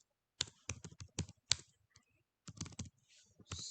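Keys tap on a computer keyboard in quick, irregular clusters, crisp and close, with a short pause midway before a second burst of typing, no talking.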